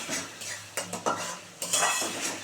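Spices are stirred and fried in a pan for a thor and pea dal with prawns. A metal spoon clinks and scrapes against the pan in several separate strokes over a faint sizzle.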